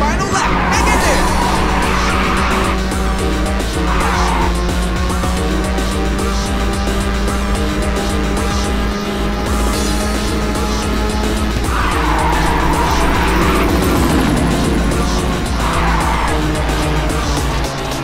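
Race cars tearing through the final lap in Ridge Racer 6, loud continuous engine roar with repeated long tire squeals and skids in several drawn-out bursts, with a voice talking over the action.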